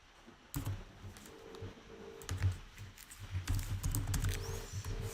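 Someone types on a computer keyboard while coding in React, giving quiet, uneven runs of close key clicks and taps with short pauses between bursts.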